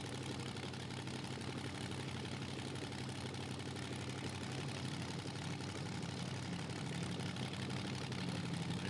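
An old Buick-powered drag racing car idles while staging, a steady, fairly distant low engine drone running evenly without revving.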